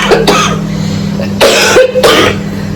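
A woman with a cold coughing indoors, three short harsh coughs close to the microphone, the first alone and the next two in a quick pair, over a low steady background hum.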